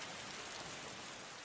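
Rain in the video game Roblox pours down heavily, a dense steady hiss of drops filling the moment without any voices.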